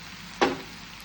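Clams hit a hot pan for Goan-style tisryo sukha, giving a sudden short sizzle that flares up and quickly fades against a quiet background.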